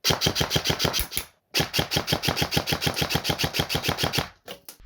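A Specna Arms HK416 Ragnarok airsoft replica fires rapid semi-auto shots at 10 meters, a loud close string of evenly spaced sharp cracks, a brief pause, then another long burst and a few final shots.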